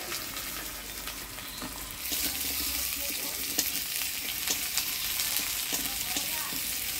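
Potatoes frying in hot oil in a pan for a Bengali fish curry, with steady close sizzling throughout that grows louder partway as they are added, and occasional stirring scrapes and clicks.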